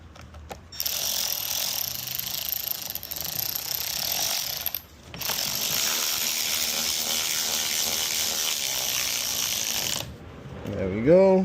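Clicking ratchet of a hand tool turning the last screw on a Stihl HT131 pole saw carburetor during installation, a steady close mechanical ratcheting with a brief pause midway, ending in a short squeaky scrape.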